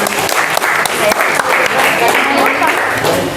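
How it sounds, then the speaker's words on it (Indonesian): Students in a classroom clap together in steady, dense applause that fills the whole stretch at an even, fairly loud level, with a few sharper claps standing out. "kalau finish silakan aplaus dulu buat kalian semua"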